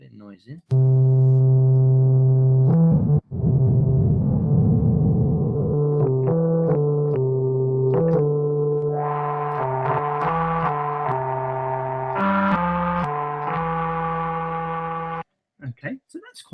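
A synthesizer holds a sustained, buzzing tone, with noise added to its oscillators giving a hissy, grainy texture as the pitch and timbre shift in steps, loud and close without talk.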